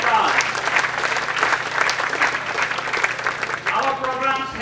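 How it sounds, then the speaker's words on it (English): Audience applause for sponsors at a Jinalay Shila Ropan ceremony, steady, dense clapping that fills the hall for several seconds, with a voice starting to speak as it continues near the end. "Let's give them a big round of applause."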